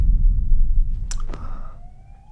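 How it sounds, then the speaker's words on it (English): A police siren wails faintly in the distance, its tone rising over a low engine rumble, with no one speaking. "The beautiful rhythmic sirens of the police."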